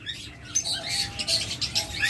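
Caged, finely marked birds at a neighbourhood bird seller's stall give quick, high twittering chirps in a short continuous burst, with no talking.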